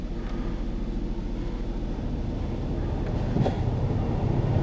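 Buick car engine idling steadily, a continuous low rumble up close, with a brief louder swell partway through and no talk.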